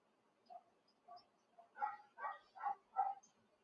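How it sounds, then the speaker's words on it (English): Several dogs in Cavite, Philippines bark in a quick series of five or six sharp barks after a few softer yips, fairly close by. "the dogs are all barking."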